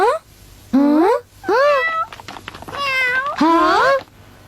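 A cat meows repeatedly in a Doraemon cartoon episode, five or six loud, close, wavering meows in quick succession with short gaps between them.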